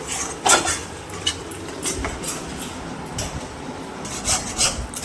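Shrimp stuffing is stirred in a pan with gentle, continuous scraping and rubbing, broken by a few sharper clinks of the utensil against the metal, close and fairly quiet.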